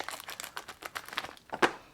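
Crinkling plastic of a small mailed package of nail products being cut open with tiny scissors, a run of quiet close crackles and rustles ending in one louder crunch.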